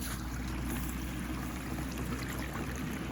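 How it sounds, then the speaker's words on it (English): Steady running water pours over sand for gold panning, a constant close wash and trickle that holds evenly throughout with no talk. "Water is running."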